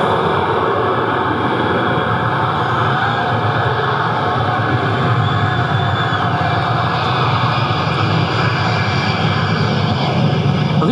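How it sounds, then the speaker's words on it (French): An airplane landing at Limoges in April 1993 gives a loud, steady, broadband roar of aircraft engines that fills the whole stretch without letting up. "L'heure H arrive, l'avion se pose."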